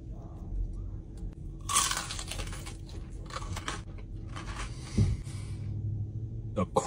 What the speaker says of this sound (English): The crunch on the skin.